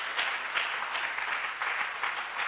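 A church congregation applauding to acclaim Jesus, a dense continuous wash of many hands clapping at moderate distance, steady throughout with slight swells.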